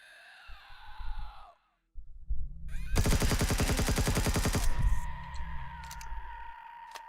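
In the video game Empyrion, a loud, rapid burst of automatic gunfire rattles for about two seconds. Quieter game sounds come before and after it.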